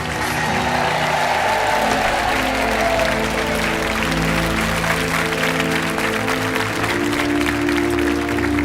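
A studio audience on a television game show applauds loudly and continuously, dense sustained clapping with a faint musical tone underneath, no voices.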